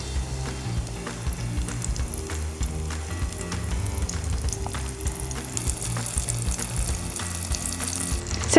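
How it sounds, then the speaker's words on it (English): Sliced puffball mushrooms frying in a pan of melted butter, a steady close crackling sizzle with soft pops and faint clinks running evenly throughout. "now I'm going to take my sliced puffballs and put them in this pan full of nice melted butter"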